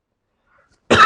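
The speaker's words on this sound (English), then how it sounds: "You'll notice I coughed." A single sharp cough breaks the silence near the end, close and loud, in a quiet room during a breathing practice.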